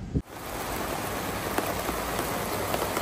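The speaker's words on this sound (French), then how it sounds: "Il pleut des cordes." Heavy rain pours steadily in September, a dense continuous hiss close by, with a brief thump at the very start and scattered droplet ticks through the downpour.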